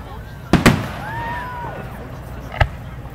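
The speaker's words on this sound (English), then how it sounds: "It's fireworks." Canada Day fireworks over Columbia Lake in 2014: two sharp, loud bangs in quick succession, then a rising whistle and a single later burst, with people talking faintly nearby.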